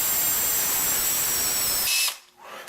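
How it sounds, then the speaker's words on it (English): An electric drill runs in reverse with a steady, loud whirring whine, then cuts off abruptly near the end, leaving only faint room noise. "I take my drill, I chuck it up in the drill, and I set the drill to reverse"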